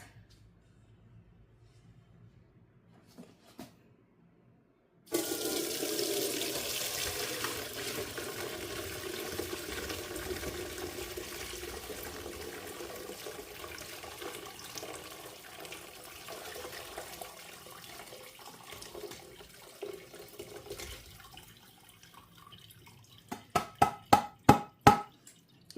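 Chicken stock pours through a strainer into a bowl in a home kitchen, a sustained splashing gush that starts abruptly and tapers off, followed by a series of sharp clanks near the end.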